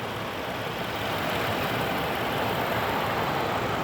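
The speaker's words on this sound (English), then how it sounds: "As you can see, the engine is idling very smooth, super clean engine bay." A supercharged 2018 Range Rover Sport HSE idles steadily with a smooth, even engine hum and broadband mechanical noise, heard up close with no one talking.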